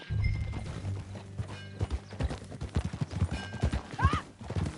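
Horse hooves clip-clop at an uneven riding pace, close and fairly quiet, with a brief whinny-like call near the end and no talk over it.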